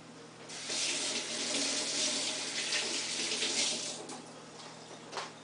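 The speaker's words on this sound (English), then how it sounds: "Give these two a quick rinse." Tap water runs in a steady hiss over strawberries being rinsed for a strawberry and banana smoothie, with a brief splashy change near the end as the fruit is moved under the stream; no talking.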